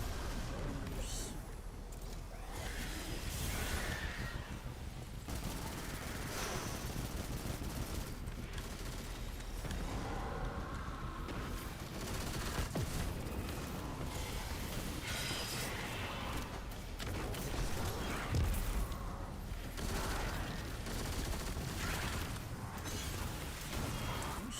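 Video game gunfire from a shooter, with dense rapid bursts and booms running continuously under busy game sound and occasional player talk.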